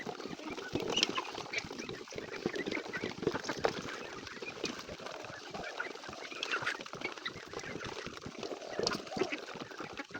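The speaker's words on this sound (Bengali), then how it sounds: "এই যে হাঁসগুলো আমার খাইতে চলে আসছে।" Ducks on a small home farm gather for their feed, a busy chorus of quacking and clucking fowl calls mixed with rustling, moderately close and continuous.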